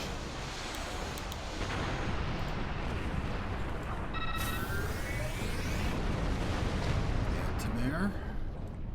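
Torpedo fire and explosions in the space game Star Trek Online, a dense continuous roar of blasts and rumbling impacts with brief electronic tones and sweeping whooshes, loud and unbroken throughout.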